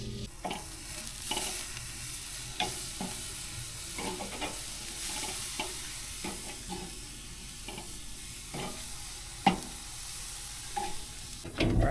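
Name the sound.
stirring creamed spinach sauce in a pan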